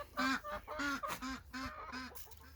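A flock of farm ducks quacks at a hanging water dish, six or so loud, evenly spaced quacks in a quick rhythm, close by with no talking.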